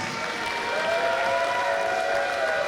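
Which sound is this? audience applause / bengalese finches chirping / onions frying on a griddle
audience applause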